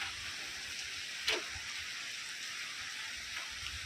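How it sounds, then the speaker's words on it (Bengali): Steady rain pours down without pause after a night-long storm, a dense even hiss throughout with one brief sharper splash or drip near the middle. "কাল রাত থেকে হচ্ছে বৃষ্টি"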